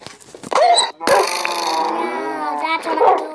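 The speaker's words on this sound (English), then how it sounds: "And Dave, why are you killing dogs?" Dogs in Minecraft Pocket Edition bark, yip and whimper as they are killed, in a few short bursts mixed with game sound effects, loud and close, over about three seconds.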